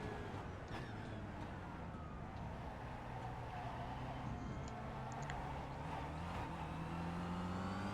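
Kia Optima race car in iRacing at Suzuka, engine revving hard in first gear from behind, a faint strained drone with shifting pitch running throughout.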